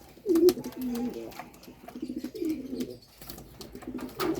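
Domestic pigeons coo close by before their bath, with repeated low throaty rolling calls coming in bursts over a quiet background and a few faint chirps mixed in.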